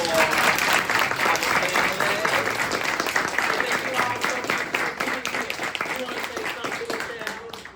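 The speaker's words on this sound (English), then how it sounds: "Can we get one more round of applause for our" Sustained audience applause for a conference panel on brand-building for journalists at NABJ. It is a dense, steady clapping that fills the room, is loud at first and tapers off gradually toward the end.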